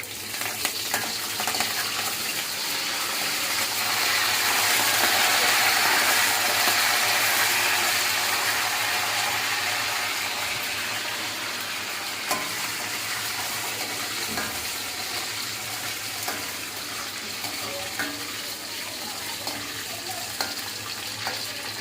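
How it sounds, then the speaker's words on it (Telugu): Dried red chillies and curry leaves fry in hot oil for a mushroom masala curry. A dense, continuous sizzle crackles close by for over twenty seconds, rising and then settling, with occasional spatters and stirring scrapes. "ఒక ఎండుమిర్చి, 2 ఎండుమిర్చిలు వేసి వేయించుకోవాలి."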